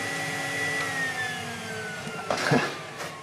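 Secondary air pump on a Dodge Avenger with a stuck air pump switch valve, running with a steady vacuum-cleaner-like whine and a falling tone, close by, with a brief rattle near the end.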